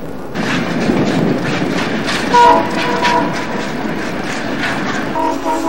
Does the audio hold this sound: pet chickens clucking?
no